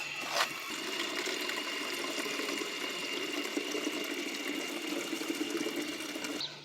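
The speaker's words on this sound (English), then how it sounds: "I got my bottles filled" Water runs steadily from an outdoor tap against a building into bottles being filled, a continuous close hiss and splash lasting throughout with a brief clunk near the start.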